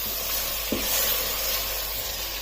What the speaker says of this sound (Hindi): अब चिकन को इसमें 4 से 5 मिनट तक भून लेना ताकि इसका कलर चेंज हो जाए।